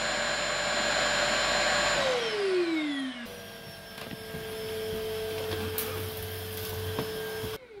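An IWOLY C150 cordless vacuum cleaner runs with a steady whine, then its pitch drops as it switches mode and settles into a lower, constant hum, close and fairly loud throughout.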